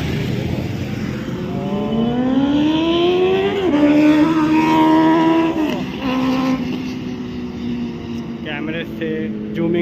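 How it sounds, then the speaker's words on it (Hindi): Motorcycles at a bike meetup racing past at high speed, engines rising in pitch as they rev and whine by up close, with more bikes following, under a steady hum of traffic and voices. "से जूमिंग से भी तेज रफ्तार से बाइकें निकलते हुए।"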